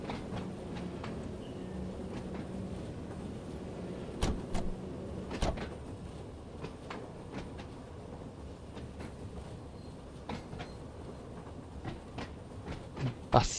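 A train in Train Sim World 2 on the Island Line rumbles and strains steadily climbing a hill, low mechanical drone punctuated by occasional sharp clanks and knocks, no voices.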